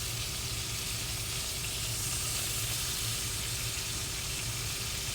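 Food browning in a pan, cooked in the cab of a truck: a steady, loud sizzling hiss under a low, constant engine idle, with no pauses.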